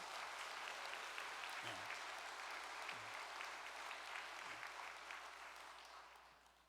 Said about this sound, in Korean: 승리하신 참어머님께 영광의 박수를 보내십시다